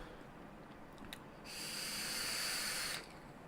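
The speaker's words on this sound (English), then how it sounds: "apart from the sizzle of the coil" The coil in a Smoant Cylon 218 vape mod gives a steady, soft hiss-like sizzle for about a second and a half, then stops. It sits close to the mic in otherwise quiet surroundings.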